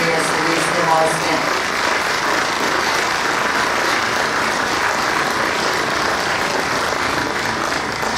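Audience applause at a Slovenian Army Day ceremony in Rakičan, greeting four newly promoted brigadiers; a dense, steady wash of clapping fills the whole stretch at even loudness, with a brief tonal murmur near the start.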